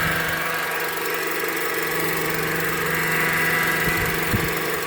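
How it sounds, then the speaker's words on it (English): Car engine running with a noisy power steering pump, a steady close droning hum with a persistent tonal whine throughout, no voices. "that power steering pump's making that sound"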